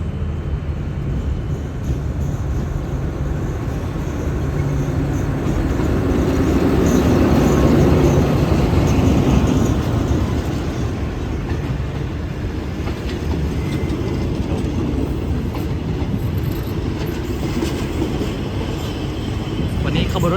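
Ordinary passenger train 202 from Phitsanulok, hauled by Alsthom locomotive 4152, rumbles past at a Thai station in a steady, loud roar that swells slightly midway and continues throughout.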